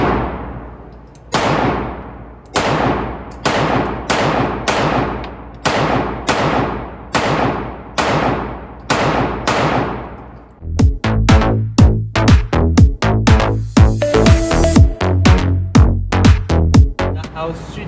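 A Sig Sauer P365XL pistol fires rapid shots at a target seven yards away on a range, loud sharp reports in quick succession, followed by a denser burst of echoing shots from other shooters nearby.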